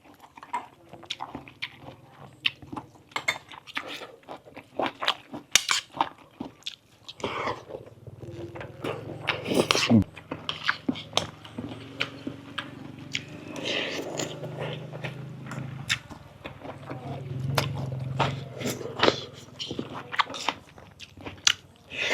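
Close-up eating of rice with Mon-style radish and soybean curry: repeated crunchy bites and moist chewing in an irregular rhythm, loud and near, with brief quiet gaps between mouthfuls.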